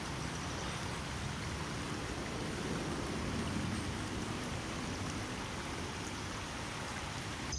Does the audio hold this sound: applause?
no